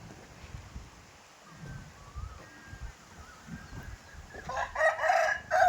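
Chickens cluck softly at first, then a rooster crows loudly near the end, close by.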